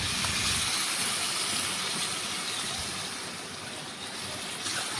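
Water poured into a hot pan of mixed Bengali vegetables sets off a steady, loud hissing rush of steam that holds for several seconds and eases slightly toward the end, with no talk.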